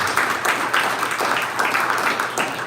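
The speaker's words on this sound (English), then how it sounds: "Coaches, let's give them a round of applause, please." Audience applause at a luncheon event, steady clapping from many hands filling the room at moderate loudness for a few seconds, with no voices on top.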